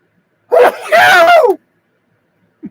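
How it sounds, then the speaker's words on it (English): A single loud, close sneeze with a sharp intake and a voiced burst, then silence and a tiny vocal sound at the end. "I feel like I got a sneeze coming on."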